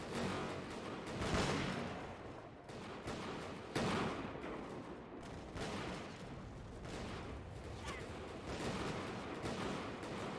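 Musket volleys from a Bannerlord Europe 1700 battle crackle in dense, overlapping bursts of gunfire, loud and continuous throughout, with several sharper volley peaks rising above the din.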